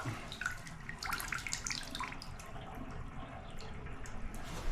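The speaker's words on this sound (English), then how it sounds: "Let the water out." Water drains from a renovated bathtub through its pop-up drain, a faint gurgling trickle with small drips, continuous and fairly quiet.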